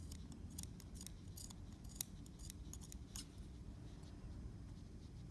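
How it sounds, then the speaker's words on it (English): Dull fabric shears notch cloth up to a sewn seam on a trapper's hat, giving a quick run of faint, close snips and crisp metallic clicks in irregular rhythm. "make sure you're using really sharp shears because these ones are not cutting it"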